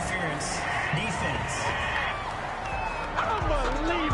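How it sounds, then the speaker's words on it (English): A home stadium crowd in Madden NFL 21 cheers and roars under a commentator's talk, a steady mid-level wash of voices with scattered whoops. "This home crowd, they're happy with that call."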